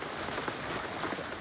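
Heavy rain falls steadily, a dense hiss of drops striking surfaces, close and continuous with no voices.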